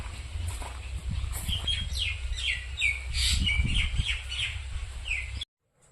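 Village birds chirp and tweet in repeated bright bursts while feeding on almonds and chikoo fruit near Porbandar, loud and close over a steady low outdoor rumble, stopping abruptly near the end.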